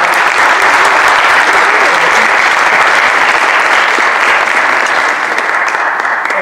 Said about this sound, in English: could we just give them a round of applause?